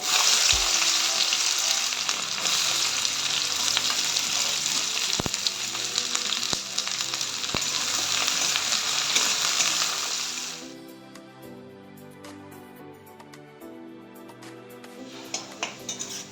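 Chopped onions fry in oil with whole garam masala and cumin seeds for a chicken feet dish, giving a loud, dense sizzle with a few utensil knocks that fades to a quieter crackle after about ten seconds.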